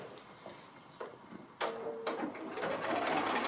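A sewing machine stitches the fabric casing of a mini snap stocking, starting with a few quiet clicks and then running in a fast, steady whir, close and fairly soft.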